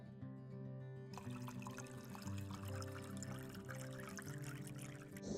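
Water poured into a pan of banana flower curry, a soft steady liquid pour and trickle close by, quiet and continuous with no talking, under faint background music.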